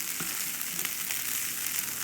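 Fiddleheads seasoned with pepper fry on very low heat in a cast iron frying pan, giving a steady close sizzle and crackle throughout with light pops, no voices.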